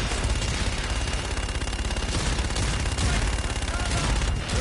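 Sustained barrage of gunfire from an air strike in a video game, dense and loud, rattling continuously for several seconds with no talk over it.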